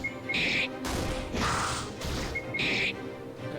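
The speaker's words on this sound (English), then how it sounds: "these generic RPG Maker sound effects too really get to me" Generic RPG Maker combat sound effects from the game Remnants of Isolation: a quick run of crashing, whacking hits broken up by two short bright chiming tones, loud and close with no talking.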